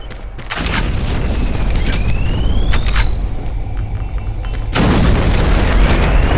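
A grenade detonates in the shooter Doom 3 with a deep, loud boom, followed by sustained rumbling and debris noise, then a second heavy blast near the end.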